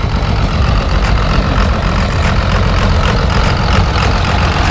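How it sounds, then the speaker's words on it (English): Diesel truck engine with a huge supercharger at a cars and coffee meet, a loud, dense, continuous rumble filling the air without a break. "Listen to that diesel."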